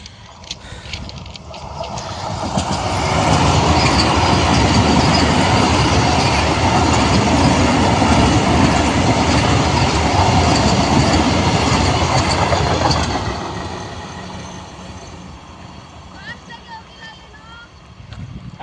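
A loud train passes close by, a roaring rumble that swells after a few seconds, holds steady for about ten seconds and then fades as it moves away.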